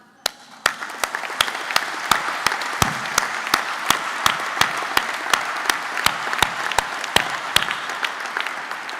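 An audience at an academic year opening ceremony applauds steadily for parents and families. The clapping is continuous, with sharp, evenly spaced claps standing out above the dense wash for the whole stretch.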